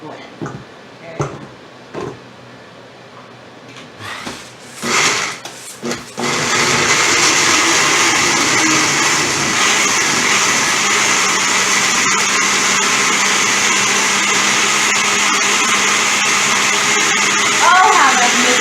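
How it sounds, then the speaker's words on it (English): A kitchen blender roars loudly and continuously while blending chile de arbol salsa, starting after a few seconds of handling knocks and clatter, then a steady whirring motor drone to the end. "Oh, how I missed my blender."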